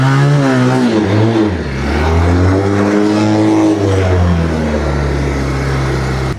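ATV engine with a slipping clutch runs loud and close, its droning pitch rising and falling unevenly as if revving without pulling, steady throughout with no talk.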